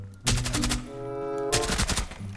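Gunfire in the tactical shooter Rainbow Six Siege, a sharp burst of rapid automatic shots, a ringing pause, then another quick burst, loud and close with no talk over it.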